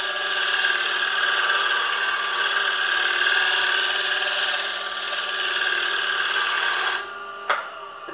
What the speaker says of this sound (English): I'm going to go back here and tear scrape and just clean up that area.